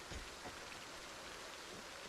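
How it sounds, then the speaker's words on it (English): Steady heavy rain falling in a modded Project Zomboid-style zombie apocalypse game, a constant broadband hiss with no clear drops standing out, loud and unbroken throughout. "it's like the rain is drowning out all the sounds"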